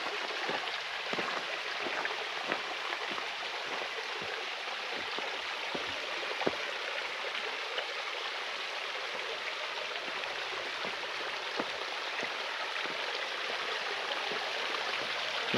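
Steady broadband rush of a waterfall beside a hiking trail at Cedar Lake near Carbondale, continuous and fairly even throughout with faint droplet-like ticks, no talking over it.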